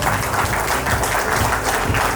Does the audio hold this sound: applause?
yes